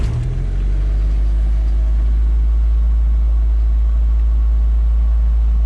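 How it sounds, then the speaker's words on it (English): A Jeep Wrangler or Cherokee engine at high idle just after starting, a loud, steady low rumble close by that stays constant throughout, with no talking. "High idle when you start."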